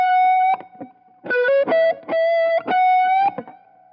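Electric guitar with a distorted, effects-laden tone plays a lead phrase from a solo, several sustained, gliding notes ending in a rising string bend high on the neck, close and loud with no talk.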